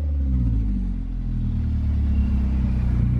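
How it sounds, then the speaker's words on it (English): A small turbocharged car accelerates with a deep, steady engine rumble close by, and a faint rising turbo whine sits over it. "you can hear the little turbo spool a little bit."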